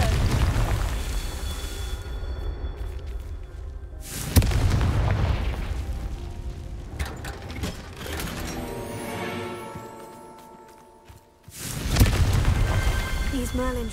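Repeated booming Confringo spell blasts in Hogwarts Legacy, three loud broadband bursts with rumbling decays around them, game effects and music layered underneath and a voice speaking at points.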